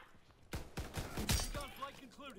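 Gunfire in Call of Duty WW2 landing a headshot: a quick burst of several sharp, loud shots close together, followed by clattering game effects and a voice.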